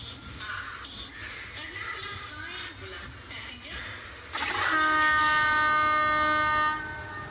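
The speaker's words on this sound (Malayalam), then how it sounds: "കൊച്ചുവേളി മൈസൂർ എക്സ്പ്രസ് ആണ് ഈ വന്നുകൊണ്ടിരിക്കുന്നത്." The Kochuveli–Mysore Express pulls into a station in the evening: a steady rumble builds, then a loud, sustained multi-tone horn blares for about two seconds close by over the approaching train noise.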